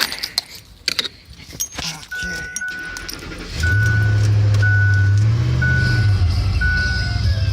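Keys jangle in a few quick metallic bursts during work on a 2004 Ford F-150's transmission oil pan, followed by a steady engine hum and a repeating high beep.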